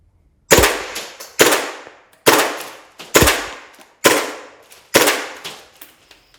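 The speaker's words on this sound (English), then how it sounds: "we're going to have a quick test fire, have a look at it downrange in semi-auto" An SSP18 pistol fired in semi-auto at a range: six sharp, loud shots spaced roughly a second apart, each with a short decaying echo, and no talking.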